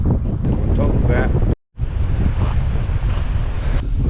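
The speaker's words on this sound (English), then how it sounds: "It's a pretty windy little spot here next to the lake." Strong gusty wind buffets close by at a lakeside, roaring and rumbling steadily, with a brief dropout in the middle.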